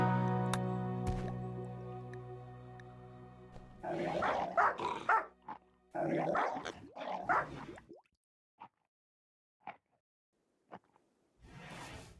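Manhunting wolves in the video game Rimworld, a few short bursts of snarling and barking after a sustained musical tone, then isolated sharp ticks and one more burst, moderately loud with no talk.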